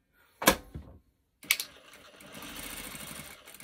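A sewing machine stitches a 1/4 inch seam along a shirt button placket, starting with a couple of short clattering bursts and then running steadily in a close, moderately quiet hum.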